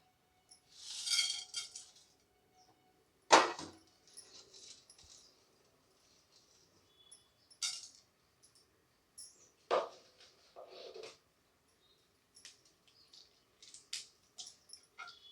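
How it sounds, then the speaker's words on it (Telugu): Spices for tempering are dropped into a teaspoon of hot oil in a pan, giving brief crackling sizzles and scattered pops with clinks of a spoon against the pan, fairly quiet with pauses between. "పోపు దినుసులు వేసుకోవాలి"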